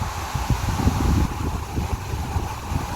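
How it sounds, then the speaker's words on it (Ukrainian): Gusty wind rushes and buffets the microphone steadily, with low rumbling thumps, at an autumn perch-fishing spot among birch trees; no voices. "такий вітер"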